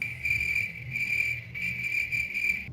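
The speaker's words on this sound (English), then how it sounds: "Yeah, the crickets are chirping." Crickets chirp in a steady, continuous high trill that is loud and close, with brief dips in intensity and no talking over it.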